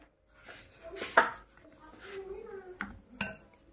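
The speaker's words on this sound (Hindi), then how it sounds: "इसको मिक्स कर लेंगे।" Marble cupcake batter is mixed in a bowl with a utensil, making light scraping and clinking against the bowl, with someone speaking quietly at the same time.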